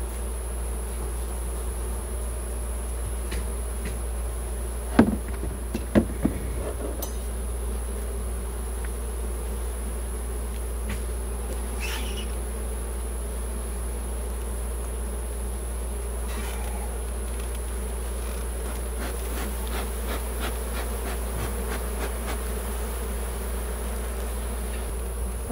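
Honeybees buzz faintly around a rescued hive, set against a steady low hum and a few brief knocks and clatters near the start.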